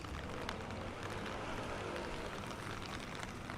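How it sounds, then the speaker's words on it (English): Rain falls on a street in Akabane, Tokyo, a faint, even hiss of drops with no break and no voices. "The sound of the rain is really nice."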